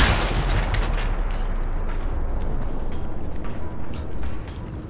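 Gunfire in the video game Alpha Protocol, a sharp burst of shots at the start followed by a rattling, mechanical crackle of continued firing that fades slightly toward the end.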